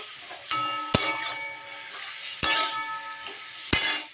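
A metal lid clinks onto a pot of green tomatoes cooking in their own juices: four sharp clanks with short ringing tails, spaced irregularly, close and clear over a quiet kitchen background.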